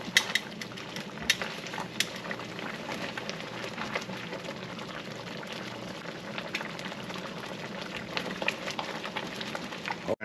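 Chicken finishing in its own juices and sauce in a pan for an Italian chicken valdostana with prosciutto, giving a steady soft bubbling simmer with light scattered ticks from the pan throughout.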